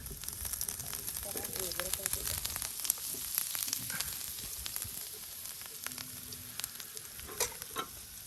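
Vegetables fry in plenty of oil in a pan on a traditional home stove, giving a steady, crackling sizzle throughout. Voices talk faintly underneath.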